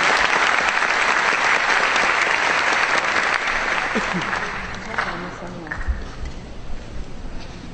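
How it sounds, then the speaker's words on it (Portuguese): An audience at a lecture event applauds a double bass professor, with loud sustained clapping that thins out after about five seconds into scattered claps, faint murmurs and shuffling. "Palmas para ele"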